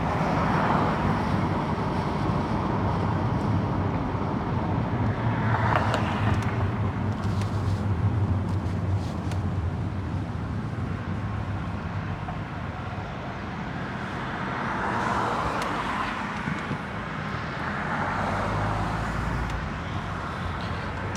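Steady road rumble of traffic passing near a roundabout on North Dubuque Street in the Iowa City area, heard from a car as a continuous, moderately loud wash with slight swells.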